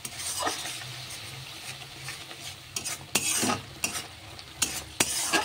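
Masala with garam masala being stir-fried in a pan for palak paneer, a soft sizzle under repeated scraping strokes of a spoon, close and without voices.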